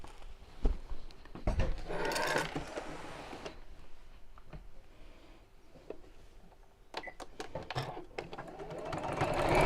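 A sewing machine stitching the sides of a fabric pouch, heard as short, faint bursts of whirring with soft handling clicks in between, in a quiet room.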